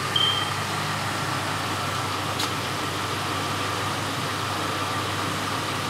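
A 2004 Ford F-150 FX4's 5.4 liter Triton V8 idles steadily, a low, even hum heard from outside the truck at moderate distance, alone with no voices.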